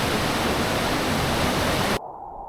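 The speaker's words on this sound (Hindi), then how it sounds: "पहले रिवर देखो बिल्कुल पास में चल रहा है, इतना सा रास्ता है और पानी बहुत ही तेज है इसमें।" A fast-flowing mountain river runs right beside a narrow trail in a remote Himalayan valley, a loud steady rushing roar that cuts off abruptly near the end.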